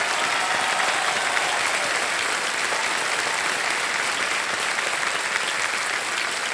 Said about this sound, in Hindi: जोरदार तालियां बज जाए सर्वेश के लिए।